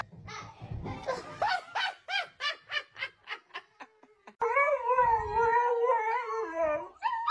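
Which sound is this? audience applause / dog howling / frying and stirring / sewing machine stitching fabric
dog howling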